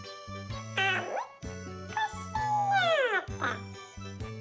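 Children's voices imitating kittens with sing-song meowing calls, several rising and falling mews over a background musical accompaniment.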